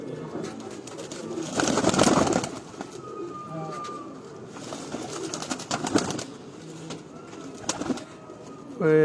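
Flying pigeons kept in pairs coo and call at intervals, close and moderately loud over a busy background with rustling and brief noises.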